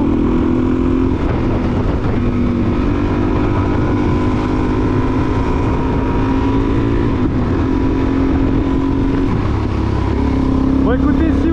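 A Suzuki DRZ 400 supermoto motorcycle is ridden with a steady, loud engine drone and heavy wind rush that continues without a break, with a faint rise in pitch near the end.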